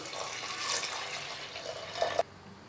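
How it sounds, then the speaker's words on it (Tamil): Water splashes steadily into a cooking pot while drumstick sambar is being made, a soft continuous rushing pour that stops abruptly near the end, leaving quiet room tone. "தேவையான அளவுக்கு தண்ணி சேர்த்துக்கலாம்."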